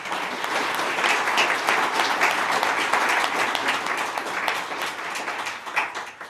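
Sustained audience applause fills a hall at a civic event honoring breast cancer support work, a dense steady wash of many hands clapping that holds strong throughout and begins to taper near the end.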